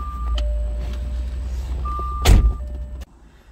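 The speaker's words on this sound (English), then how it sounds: "Turn on the car here." A Jaguar XK8 Victory Edition car starting up, with a loud rising burst of engine noise as it cranks and fires, preceded by steady low rumble and electronic chime tones, then settling quieter.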